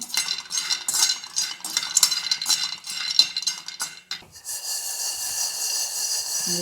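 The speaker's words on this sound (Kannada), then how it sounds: "ಈಗ ಬಾದಾಮಿಯನ್ನು ಕೂಡ ಸ್ವಲ್ಪ ಫ್ರೈ ಮಾಡ್ಕೊಳ್ತಾ ಇದ್ದೇನೆ" Almonds frying in a pan, rhythmic scraping and clinking of a spoon stirring them for several seconds, then a continuous even sizzle, no talking.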